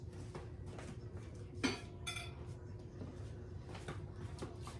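Dishes and pans clink and knock in a home kitchen as a deeper baking dish is pulled out for a pepper corn casserole, with a sharp clatter near the middle and softer rattles after, close by and moderately loud.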